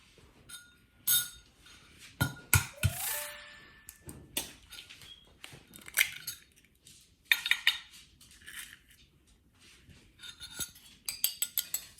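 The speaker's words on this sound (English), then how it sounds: "We need to first beat the egg." A utensil clinks against a bowl while an egg is beaten for banana bread, irregular bright taps and scrapes close by, with a brief louder clatter early on.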